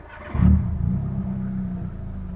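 A Proton Waja MMC Auto car engine, fitted with a TEC K20 coil-on-plug kit, cranks and catches with a brief louder burst, then settles into a steady, close, low idle rumble.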